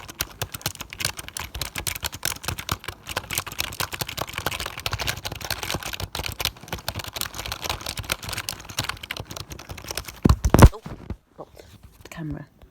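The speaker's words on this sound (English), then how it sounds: "Here's what the keys sound like." Rapid typing on a Logitech MK250 keyboard fills the scene with dense, steady clattering keystrokes up close, ending in a louder knock and a few faint sounds in near silence.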